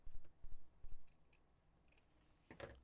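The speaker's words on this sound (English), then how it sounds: "Trim this piece of lace and this side." Scissors snip a piece of lace while a purple journal is finished, giving a few quiet, close cuts in quick succession at the start and a brief rustle later.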